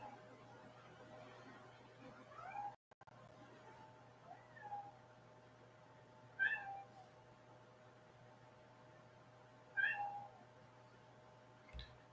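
A house cat meows to be let in, several short, fairly close meows spaced a few seconds apart over a quiet room with a faint steady hum.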